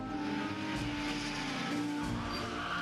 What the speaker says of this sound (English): Stupid bus almost ran right into us.